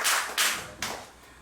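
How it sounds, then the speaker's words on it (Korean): An audience at a speech contest claps in a few short, sharp bursts, fairly faint and with no talk over it. "오은정님이 좋았다 하는 분 박수 한번 보내주시죠."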